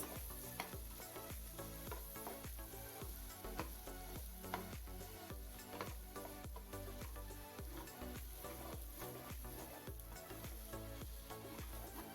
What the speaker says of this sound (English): Now this is 70 grams of tomato paste, and you're going to cook that all for another 1 to 2 minutes.